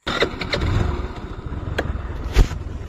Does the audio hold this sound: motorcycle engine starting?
yes